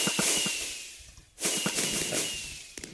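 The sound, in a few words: fireworks launching in Minecraft video game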